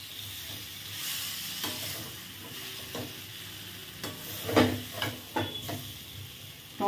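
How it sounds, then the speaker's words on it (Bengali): Fried potatoes drop into a pan of sizzling spice masala, followed by a steady frying hiss and several scraping stirs of a spatula, close up and moderately quiet, with no talking. "এবারে ভাজা আলুটা দিয়ে দিলাম"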